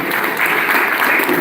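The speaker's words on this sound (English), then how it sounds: "big round of applause to" Audience applause for a guest technical speaker at a college tech event, a dense, loud, continuous burst of many hands clapping close by.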